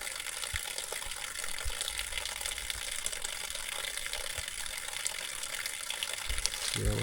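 Water gushing steadily from a mountain spring in a Jamaican hillside community, a close continuous splashing flow with a few faint low thumps and no talking.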